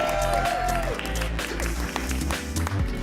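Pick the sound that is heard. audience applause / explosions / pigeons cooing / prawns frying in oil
audience applause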